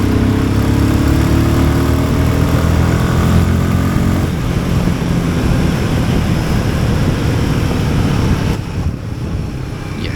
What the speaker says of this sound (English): Right, fifth gear,